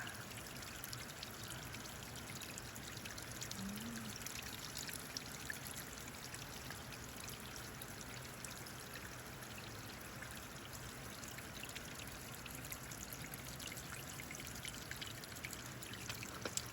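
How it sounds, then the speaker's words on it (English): Steady rushing water from a creek and waterfall along the Boulder River Trail near Arlington, Washington, a continuous broadband flow at moderate distance with no voices. "these stream beds and creeks and those waterfalls"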